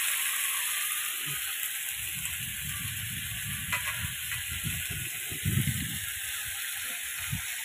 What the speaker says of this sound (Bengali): খুব সুন্দর করে আলুগুলো ভেজে নেবো, নিয়ে তারপরে তরকারি বসাবো।